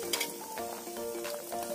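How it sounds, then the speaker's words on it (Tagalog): Tomatoes go into a simmering pot of tinola fish soup made with danggit, giving a steady close sizzling, bubbling wash with light stirring, under faint sustained background tones. "kumukulo na po yung ating isda. So ilagay na po natin yung ating kamatis"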